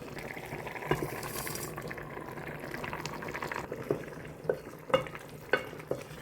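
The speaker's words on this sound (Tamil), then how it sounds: "இப்போ நாங்கள் இந்த வதக்கி வச்ச வெண்டிக்காயை போடுவோம்." Sautéed okra tipped into a boiling tamarind gravy, giving a steady bubbling simmer with soft sizzle and a few sharp clinks and stirring knocks near the end, with no talking.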